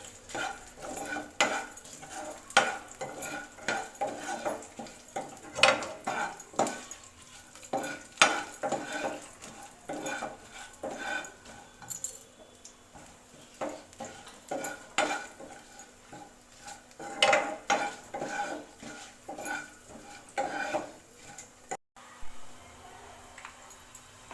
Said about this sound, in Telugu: రెండు యాలకులు రెండు దాల్చిన చెక్క ముక్కలు వేసి అలాగే బిర్యానీ ఆకు కూడా వేసి ఫ్రై చేసుకోవాలండి